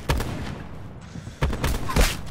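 Gunfire in Call of Duty: Black Ops 4 crackles in several short, sharp bursts, some overlapping into a brief fusillade, loud and close.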